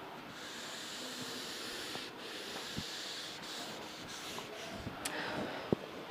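Steady rubbing of an eraser across a board during a Python programming lecture, a continuous soft scraping texture with a few small knocks, fairly faint and with no talking.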